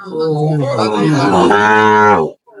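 A Sahiwal bull calf at a livestock market gives a single loud, close, drawn-out moo that rises and holds before cutting off, with a faint noise after it.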